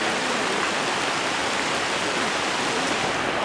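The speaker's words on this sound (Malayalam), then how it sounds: "ശക്തമായിട്ടുള്ള മഴയാണ് ഗൈസ്." Heavy rain pours steadily at the Kottoor elephant rehabilitation centre, a loud, even hiss that fills the whole stretch without any talking.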